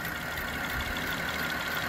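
A 2010 Chevy Traverse engine idles steadily after a timing chain repair, a smooth continuous hum with a faint high whine, close by and alone for two seconds.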